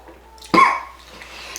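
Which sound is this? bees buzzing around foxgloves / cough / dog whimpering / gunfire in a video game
cough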